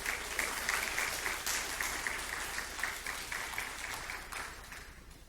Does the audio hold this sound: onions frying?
no